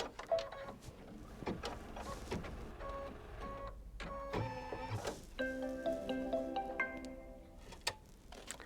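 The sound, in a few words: embroidery machine stitching final outline on quilt block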